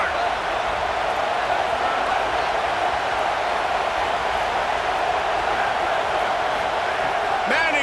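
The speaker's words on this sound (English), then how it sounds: "Trying to quiet this crowd." Stadium crowd in a College Football video game roars as a loud, steady wash of noise that holds throughout with no break.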